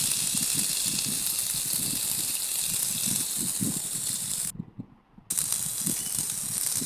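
Potato, onion and chilli fry in hot oil, a constant close sizzling hiss with rhythmic stirring scrapes, briefly cutting out before resuming.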